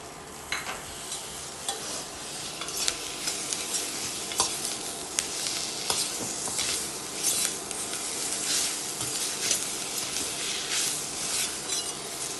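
A handful of washed mint leaves sautéed with tomato and onion for tomato soup, producing a steady close sizzle broken by repeated scraping and clinking stirs of a spoon against the pan.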